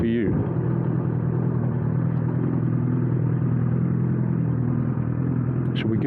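2009 Honda CBR1000RR Fireblade motorcycle engine, a loud steady rumble heard close up from the rider's position, with a brief rising rev at the start.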